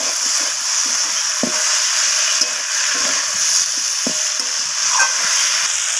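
Vegetables frying in oil for a Bengali fish-head chorchori with kohlrabi, radish, beans, eggplant and potato, a continuous sizzle broken by a few scraping stirs of a spatula in the pan, no speech.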